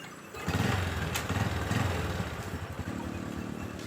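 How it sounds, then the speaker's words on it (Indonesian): A Honda Revo motorcycle engine is kick-started and catches almost at once, then settles into a steady, close, chugging idle with a light mechanical clatter. "Langsung saja kita engkol ya."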